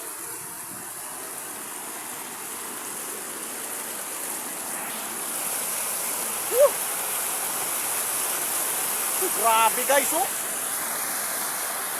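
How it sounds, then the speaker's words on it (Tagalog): Steady broadband rushing of a strong, fast-flowing water current after a typhoon in Carmen, Surigao del Sur, fills the whole clip, a constant loud roar with a person briefly speaking over it. "malakas ang agos tubig dito"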